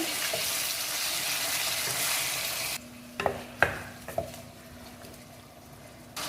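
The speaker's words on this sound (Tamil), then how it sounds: "இது நல்லா இந்த எண்ணெயில் கொஞ்சம் வதக்கிக்கலாம் சிக்கனை." Washed chicken pieces sauté in hot oil for a green chicken curry made without tomato: a loud steady sizzle that suddenly drops to a quieter fry, broken by a few sharp clanks and scrapes of stirring.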